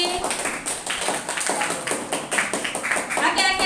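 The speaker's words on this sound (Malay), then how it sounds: "tepuk tangan untuk diri sendiri" Students in a classroom lesson give themselves a short round of applause, a run of quick sharp claps with a teacher's voice over the top.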